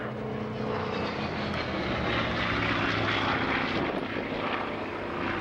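A Hawker Fury propeller fighter with a sleeve-valve piston engine flies over the Dunsfold airfield, giving a loud, steady, broad engine drone with a throbbing propeller note that holds for the whole stretch, no voices.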